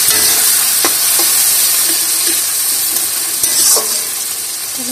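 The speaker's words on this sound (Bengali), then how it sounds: "জিরে ফোড়ন দিলাম, কুচনো পেঁয়াজটা ছেড়ে দিচ্ছি। একটু লালচে করে ভেজে নিয়ে" Chopped onion and cumin seeds fry in hot oil for a mutton kasha, giving a loud, steady sizzle throughout with occasional stirring clinks from a utensil, close up and without talk.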